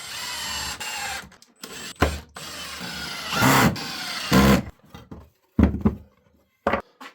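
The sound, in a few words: driving screws into pocket holes of a wooden planter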